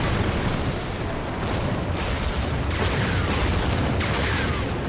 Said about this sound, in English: that's a spectacular explosion that it just had